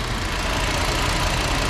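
A 2.5-litre five-cylinder engine in a VW Beetle runs steadily at idle, a close, continuous rough rumble with slight knocking texture and no talk over it.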